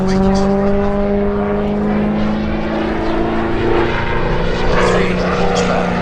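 A 300-horsepower propeller aircraft at the Shuttleworth Collection family air show in 2021 drones loud and steady overhead, its engine tone wavering slightly as it passes, with a voice talking over it.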